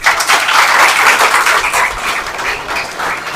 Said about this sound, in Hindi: लास्ट टाइम एक बार फिर से तालियां।